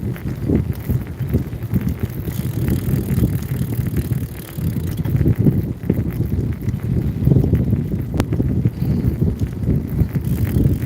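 Steady wind buffets the microphone of a road bicycle rolling along the roadside, a continuous low rumble with no let-up and no voices.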